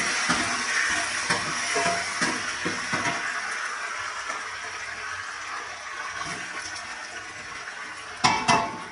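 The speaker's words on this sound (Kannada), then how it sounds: "ಈ ಸ್ಪೂನ್ ಸಹಾಯದಿಂದ ಎಲ್ಲ ಚೆನ್ನಾಗಿ ಮಿಕ್ಸ್ ಮಾಡಿ" A spoon scrapes and clinks in a pan while upma ingredients are mixed, a series of close metallic taps and stirs over a soft background hiss, ending in a louder clatter.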